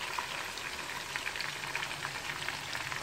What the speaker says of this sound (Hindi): ये देखें फ्राई हो रहा है ये